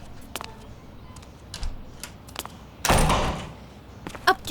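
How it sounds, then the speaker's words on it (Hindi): A door pulled shut in a house, one solid close with a short burst of rattle and rumble, heard among scattered small knocks and clicks in an otherwise quiet room. "जाओ, दरवाजा बंद करो।"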